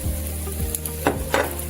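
Steady close sizzle of chickpea fritters frying in a little oil in a pan, with a couple of brief scraping stirs, no talking.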